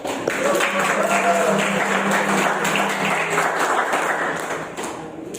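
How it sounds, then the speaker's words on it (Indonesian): An audience at a school project-week event applauds three teachers with a broad wash of clapping from many hands, steady and fairly loud, while a voice briefly speaks over it early on. "mari kita sekali lagi memberikan tepuk tangan yang luar biasa untuk ketiga guru"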